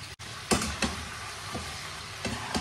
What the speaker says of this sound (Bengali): আর একটু চিকেনটা না আগে ভেজে নিচ্ছি